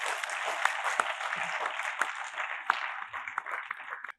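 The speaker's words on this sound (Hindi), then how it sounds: "एक बार जोरदार तालियों से आगाज कर दें" Applause from an audience at the close of a training session, steady dense clapping with sharper individual claps standing out, held for about four seconds before cutting off abruptly.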